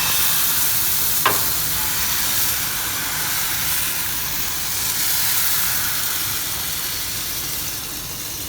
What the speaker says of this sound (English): Cook it on one side and flip it.